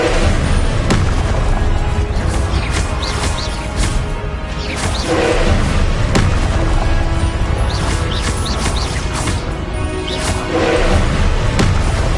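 Repeated explosive blasts of the Confringo spell in Hogwarts Legacy, loud booming bursts recurring every few seconds amid dense battle noise and crackles.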